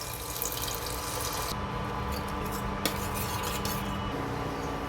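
Tamarind water trickles and splashes into a pot of rasam amid light clinks of metal utensils, steady and close, with no talking.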